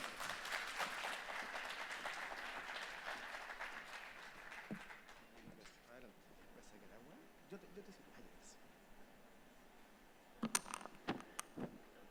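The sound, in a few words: audience applause for speaker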